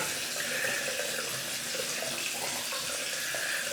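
Tap water runs steadily into a sink, a constant close splashing flow with no pauses and no talk.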